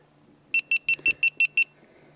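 Seven quick, evenly spaced electronic beeps from a Sony HDR-AS15 action camera, sharp and high-pitched, ring out close by in a fast burst against near silence.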